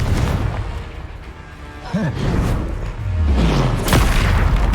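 A Bombarda explosion spell in the Hogwarts Legacy video game sounds as a loud booming blast layered with other combat effects and a quick whooshing sweep, amid dense battle noise.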